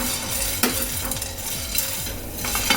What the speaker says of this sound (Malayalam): ഞാനിപ്പോൾ കുരുമുളകും ഉലുവയും കൂടെ ഒന്നിച്ചങ്ങോട്ട് ഇടുക